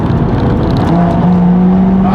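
A Stage 2 tuned BMW M140i hot hatch engine droning loudly from inside the cabin while driving, a dense continuous roar with a tone that rises as the car pulls.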